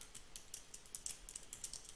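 Keystrokes on a computer keyboard while a document title is typed in Microsoft Word, a quiet run of light, quick clicks at an uneven typing rhythm, close and faint with no talking.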